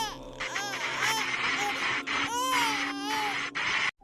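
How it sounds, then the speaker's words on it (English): Newborn baby crying loudly and continuously, repeated wailing bursts with short breaths between them, close and dominant over a faint background hum. "I heard the cries of a newborn baby."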